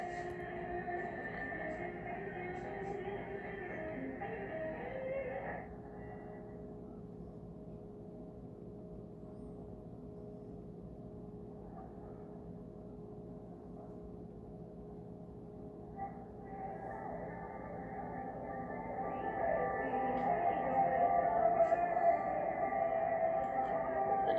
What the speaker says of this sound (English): Right now it's running on the AM radio.